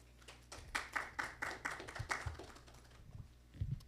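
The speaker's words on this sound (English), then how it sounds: "Let's give them a round of applause." A small group claps for the faculty and staff of a counseling and career services department at a press conference, a thin scattering of separate hand claps in an uneven rhythm that fades toward the end.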